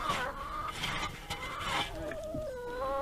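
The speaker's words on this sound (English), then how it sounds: "The rooster doesn't mind us visitors in the pen" Rooster clucking in a sheep pen on a farm, close and moderately loud, a run of clucks and short calls over a steady background hum, with no talk.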